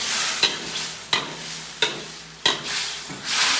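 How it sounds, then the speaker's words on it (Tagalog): Beef intestine adobo with bay leaf and black pepper is stirred in a hot pan, several scraping strokes over a steady sizzle, close and without speech. "Haluin muna natin."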